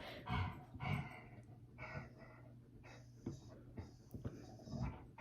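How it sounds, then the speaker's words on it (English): A dog making snorting, breathy noises indoors, a few short bursts and sniffs spaced irregularly at close range against a quiet background. "My dog is making noises."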